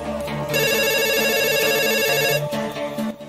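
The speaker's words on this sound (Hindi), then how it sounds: "देखो, लालता को फोन करो और उससे पूछो वो कहाँ है" A telephone rings in a Hindi movie scene, a repeated electronic ringtone pattern that sounds clearly over a low musical bed and then stops near the end.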